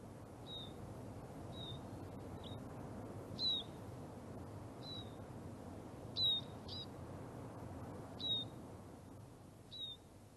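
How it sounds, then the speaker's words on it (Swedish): Eurasian siskins give a series of short, high, thin call notes spaced through the recording, some closer and louder, over a steady low background rumble with no voices. "Fram till dess ska vi titta på och lyssna till en liten fågel som heter grönsiska."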